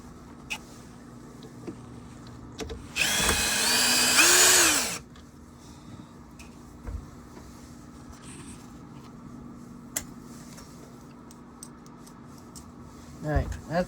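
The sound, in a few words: power drill driving screw into Shark vacuum motor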